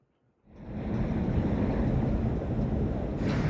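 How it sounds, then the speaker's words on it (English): Wind blowing on a sailboat in the North Sea in late fall: a loud, steady rushing roar starts after a brief quiet moment and continues with gusty wind buffeting the microphone. "Winds have picked up a bit."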